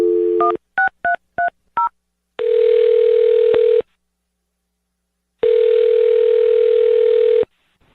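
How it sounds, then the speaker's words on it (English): A telephone keypad dials a number in a quick run of five DTMF beeps, then the line gives two long, loud, steady ringback tones separated by silence. "I'm going to dial his phone number right now then and see if we can get your answer."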